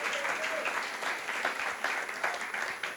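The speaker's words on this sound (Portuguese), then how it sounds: "Quem pode aplaudir o Senhor Jesus?" A church congregation applauds at a worship service, a steady dense wash of clapping that stays loud and even throughout, with no voices over it.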